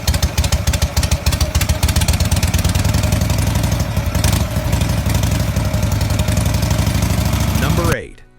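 A classic motorcycle engine running loud and close, a fast even thumping idle held steady for about eight seconds before it cuts off abruptly.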